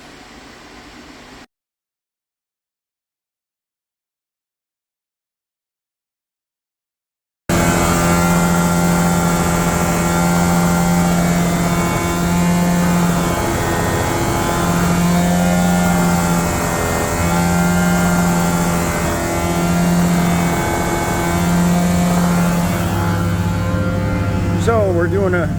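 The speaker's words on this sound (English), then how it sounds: "testing his truck after all the repairs were done" A carpet cleaning truck engine idles steadily after repairs, a continuous loud mechanical drone with a pulsing low hum, starting after a few seconds of silence and holding at an even level.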